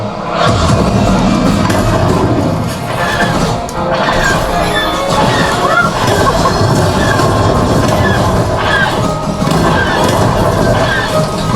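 A loud ride-effect train rushing past close by at Tower of Terror, Hollywood Studios, a steady heavy roar with rattling wheels, metallic clanks and high squeals along the rails.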